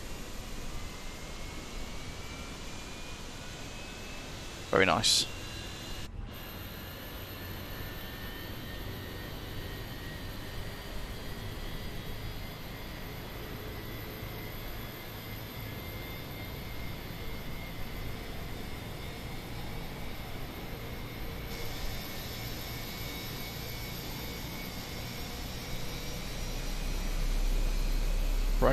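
A Fenix A320 engine 1 starts up in Microsoft Flight Simulator: a steady whine and rush builds slowly with a rising tone. A sharp click comes early, a brief voice speaks once, and the roar grows louder toward the end.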